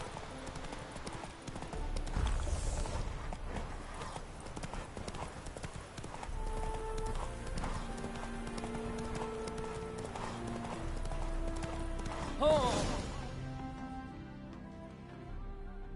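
Horse hooves in The Witcher 3 beat out a steady, rhythmic clip-clop throughout. Game ambience and occasional voice sounds sit around them.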